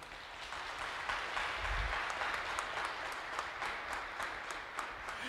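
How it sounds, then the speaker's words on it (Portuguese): A church congregation claps in a steady, dense round of applause that holds at an even level for about five seconds, with little talk. "Aplaude, por favor."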